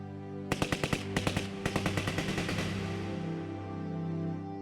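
Rapid bursts of machine gun fire crackle loud and close in a wartime battle scene, several quick volleys of sharp shots followed by a ringing, decaying rumble.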